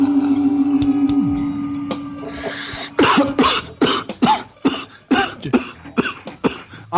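A man coughing and clearing his throat in a run of harsh, closely spaced bursts after a sustained laugh, close to the microphone with a faint hum beneath.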